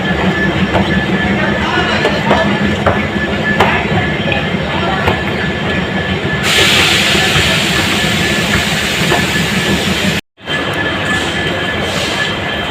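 A train's steady heavy rumble and rattling rail clatter fill the air at a Guwahati railway platform, with a brighter hissing wash joining midway and a brief cut to silence near the end.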